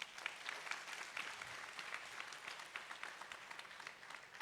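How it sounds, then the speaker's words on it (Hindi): An audience at a gathering claps together. The applause is faint and distant, a dense, even patter of many hands that holds steady for several seconds. "खुश होकर ताली बजा सकते हो?"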